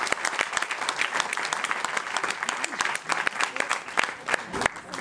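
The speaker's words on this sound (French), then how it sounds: "on applaudit Stéphane, s'il vous plaît." Audience applause at a live performance, loud, close, sharp clapping with distinct individual claps over a dense background, continuing steadily for several seconds.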